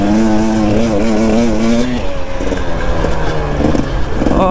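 A KTM 250 EXC dirt bike engine revs hard on a steep hill climb, its pitch rising and falling as the throttle works, then dropping to a rougher, uneven note; loud and close.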